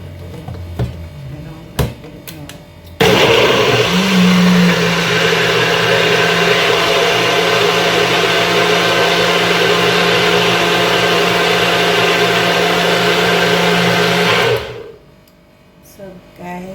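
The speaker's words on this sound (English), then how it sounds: "you just want it to blend so that you can get it to strain" A NutriBullet blender whirs loudly as it blends pineapple, mango and carrot with water, a steady motor roar of about twelve seconds that starts and stops abruptly, with brief handling noises before and after.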